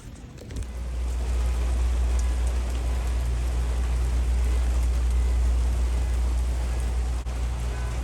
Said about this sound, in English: Let's get in out of the rain.